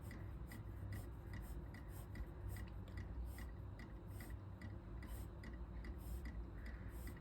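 Graphite pencil shading on paper with heavy pressure makes a continuous, close, dry scratchy rasp with quick rhythmic back-and-forth strokes and no voices.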